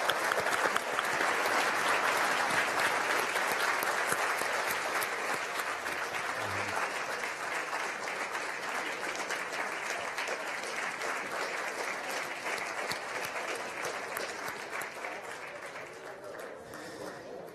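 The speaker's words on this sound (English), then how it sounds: "How about a round of applause for our panelists as we close?" At the close of a leadership forum on veterans and military families, the audience gives its panelists a long, sustained round of applause. The dense clapping fills the hall and slowly tapers off.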